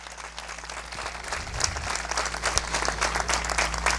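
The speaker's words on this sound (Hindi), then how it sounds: "यीशु के नाम के लिए जोरदार ताली।" A church congregation applauds in honour of Jesus' name, a dense, sustained roar of clapping that builds and holds steady.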